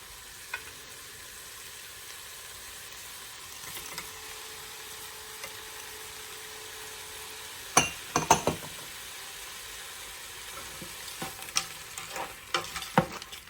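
Sausage and peppers cook in a pan with a soft, steady sizzle, then a utensil stirs them, giving several clinking scrapes near the end, faint and close with no talking.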